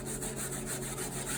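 Sweet potato being rubbed fast against a grater for pudding, a quick, rhythmic rasping scrape repeating several times a second, close and fairly quiet.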